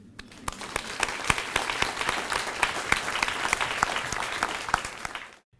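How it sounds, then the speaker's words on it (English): Staff audience applause at a university staff networking lunch, clapping that quickly swells into a full, dense round with sharp individual claps near the microphone, holds steady, then stops abruptly. "I'm going to start the applause."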